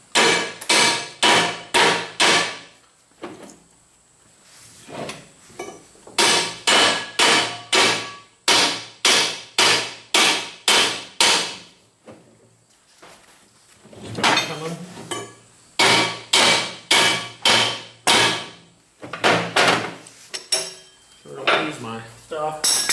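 A hammer taps out a bearing on a New Holland 630 baler, ringing metallic strikes in quick bursts of four to six blows separated by short pauses, close and sharp.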